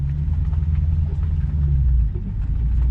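Lexus RCF on 20-inch OEM wheels with wide tires, a tire rubbing against the wheel liner during a turn; a steady low rumble and scraping drone from inside the car, continuous and fairly loud with no talking.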